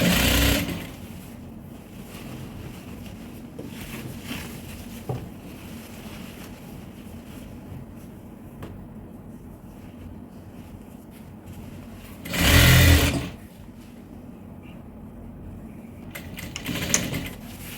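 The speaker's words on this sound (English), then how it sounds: "Okay, so go ahead and start sewing." A sewing machine stitches African print fabric for a zippered tote bag, a faint, steady mechanical whir running through a quiet room, with a brief louder burst near the end.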